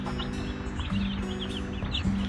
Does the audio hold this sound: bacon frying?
no